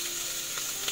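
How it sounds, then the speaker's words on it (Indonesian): Spices with lemongrass, onion and sauce sizzle in a pan as they are stirred, a short steady hiss with faint crackle close by. "Kita aduk-aduk-aduk sampai bumbunya matang."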